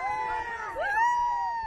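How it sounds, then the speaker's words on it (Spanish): Crowd on a Miami street screaming and chanting a footballer's name, a dense blended roar of many voices rising in pitch midway through, steady and loud throughout. "Tres gente, bro, gritando Messi."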